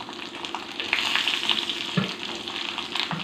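Tempering spices (mustard seeds, cumin, dried red chillies) sizzle and crackle in hot oil, a steady close frying hiss with small pops throughout.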